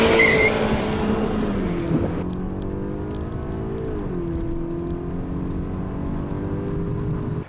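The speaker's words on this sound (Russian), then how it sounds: "Теперь попробую стартовать с небольшого ланча, около 2000 оборотов." A VW Golf 6 GTI launches from about 2000 rpm and accelerates hard, its engine note climbing steadily through a gear change, heard loud and close from inside the car.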